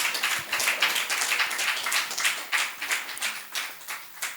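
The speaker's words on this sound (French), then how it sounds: "Sous vos applaudissements, s'il vous plaît." An audience claps in a steady crowd applause for a speaker at a talk on teaching AI in Africa, moderately close, lasting a few seconds with no voices.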